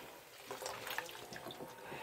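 A gas mask is lifted out of a tub of water, giving quiet, close trickling and scattered drips as the water runs off it.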